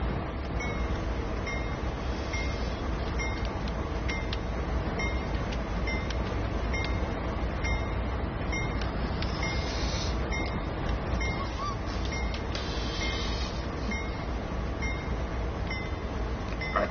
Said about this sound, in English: Oh, this is a manifest train we're dealing with.